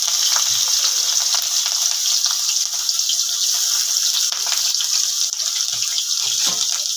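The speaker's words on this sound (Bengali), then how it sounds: "এটাকে ভালোভাবে আমি ভাজা করে নেব।" Green chilli, garlic, ginger and chopped onion frying in a pan, a loud continuous hiss and crackle with occasional stirring scrapes, close up and without talk.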